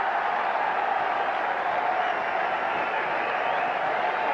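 Cricket crowd at the 1990 England vs India first Test applauding Azharuddin's boundary-laden batting, a steady broad roar of clapping and crowd noise held at even loudness throughout, with no talk over it.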